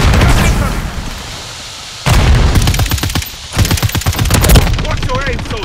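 Loud machine gun fire rattles in a Call of Duty video game, coming in rapid bursts of shots with booming battle noise around them and shouted voices mixed in.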